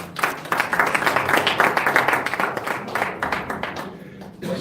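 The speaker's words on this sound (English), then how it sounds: "Please, a round of applause for them." Audience applause at a press conference: a burst of close, loud clapping that swells and then thins out toward the end, with faint voices underneath.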